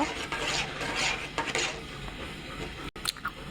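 Dal being stirred and mashed in a pot: continuous scraping and sloshing of a spoon against metal, close and fairly steady, with a few short clinks near the end and no talking.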